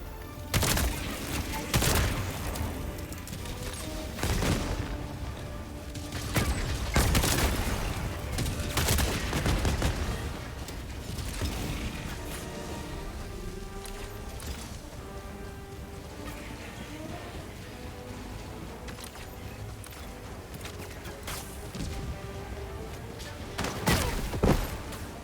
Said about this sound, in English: The explosion radius is so stupidly large.